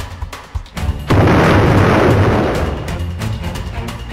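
A loud explosion booms in a Roblox PTFS movie, a sudden broadband blast that holds and rumbles for several seconds before slowly fading, following a couple of short thuds.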